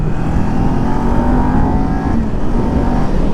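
A 2020 Kawasaki Ninja 400 motorcycle engine pulls hard under acceleration, a loud continuous rising drone of engine and wind noise with no pauses, heard from the rider's position.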